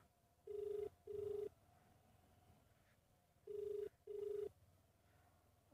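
An unanswered phone call at a spooky remote place, two pairs of double ring tones, steady and clear, separated by a pause of quiet background.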